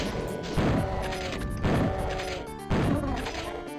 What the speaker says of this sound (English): I'll shotgun them as long as I have ammo for it